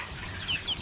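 Chickens on a poultry farm in Addis Ababa giving faint clucks, two short high calls over a low background hum.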